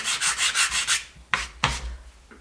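Sandpaper rubs across wood in six quick, even back-and-forth strokes, followed by two slower, louder separate passes and a faint last touch. The sound is close and clear, with no voices.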